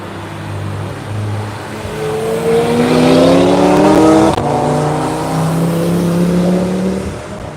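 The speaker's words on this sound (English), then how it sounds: "That sounds like a good car, Simon." A car engine drones steadily on the Nürburgring race track, its pitch climbing as it accelerates, then easing off and holding a lower tone as it continues along, fairly close.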